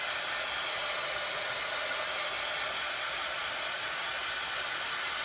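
A heat tool blows a steady, even rush of hot air over a drying craft project, continuous and close for the whole stretch.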